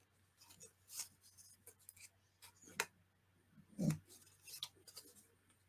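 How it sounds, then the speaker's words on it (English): Scissors snip a small triangle off the corner of paper for a Christmas journal envelope: a few short, crisp close-up cuts and small handling sounds in a quiet room. "I'm going to take my scissors, and I'm not cutting off a lot"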